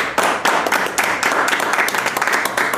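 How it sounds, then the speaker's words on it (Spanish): Crowd applause with scattered clapping for Bruno and Sasha, steady and dense throughout at close range, with a few voices mixed in. "Fuerte el aplauso para Bruno"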